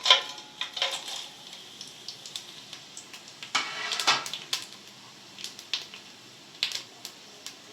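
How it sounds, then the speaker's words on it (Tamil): Whole cinnamon, cloves, cardamom, fennel and bay leaf drop into hot oil for a chicken biryani, giving faint irregular crackles and small pops with light clinks of a pan, close by and without talk. "இப்போ எண்ணெய் நல்லா காஞ்சிருச்சு இதில் வந்து நம்ம எடுத்து வச்ச பட்டை லவங்கம் ஏலக்காய் சோம்பு பிரியாணி இலை இது எல்லாத்தையும் போட்டுடலாம்"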